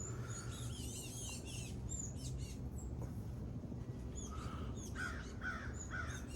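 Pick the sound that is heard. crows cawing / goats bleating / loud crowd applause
crows cawing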